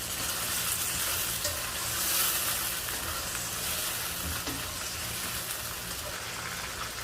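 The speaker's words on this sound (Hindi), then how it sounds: "नमक डाल के इसको हिला लेंगे।" Chicken karahi frying in a pan with salt added, stirred so the loud, dense sizzle churns and hisses steadily up close for the whole stretch.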